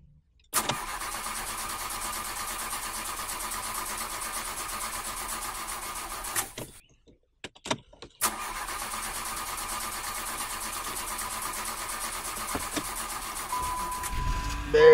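A car engine cranks and catches, then idles steadily, cuts out briefly with a few clicks, and restarts into a continuous running hum that lasts to the end.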